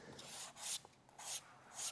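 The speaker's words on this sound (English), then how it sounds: "I'm going to come by with some fine grit sandpaper" Fine grit sandpaper rubbed over tooled leather in three or four even back-and-forth strokes, soft, close and raspy, with no talking.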